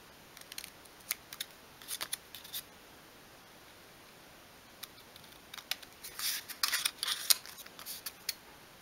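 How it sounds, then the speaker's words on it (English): Scissors snipping off overhanging paper edges past a fold line while making a 1/12 scale miniature suitcase: scattered short, faint cuts, with a quiet gap in the middle and a denser run of snips near the end. "you can just snip those off"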